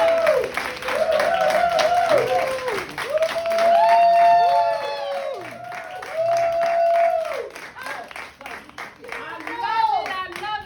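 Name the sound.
audience applause for a speaker at a book signing event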